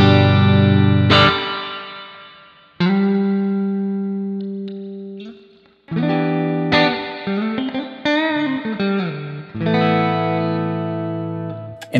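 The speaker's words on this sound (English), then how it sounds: "usually a Marshall would have like a spring reverb here." Clean electric guitar played through a Marshall spring reverb in Amplitube 5 software: a few sustained chords and single notes ringing out with a splashy, trailing reverb tail, loud and alone.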